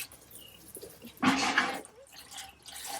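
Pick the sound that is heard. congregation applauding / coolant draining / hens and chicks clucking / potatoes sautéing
coolant draining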